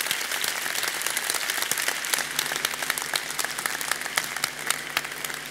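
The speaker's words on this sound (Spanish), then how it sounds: "permítanme que pida un aplauso para Fernando de Pablos" An audience applauds during a lecture on education, a full, continuous patter of many hands clapping at an even level, with a few sharper individual claps standing out.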